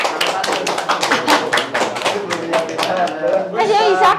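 Rhythmic hand clapping in a classroom, a steady series of close claps mixed with children's voices and chatter throughout.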